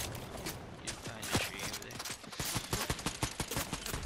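Rapid bursts of automatic gunfire in a first-person shooter video game, loud and dense, with repeated shots and clattering mechanical clicks running through the clip, no talk.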